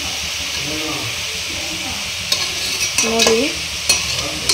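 Food sizzles and hisses steadily in a hot frying pan, with occasional stirring scrapes and clinks, while a voice speaks briefly over the continuous frying.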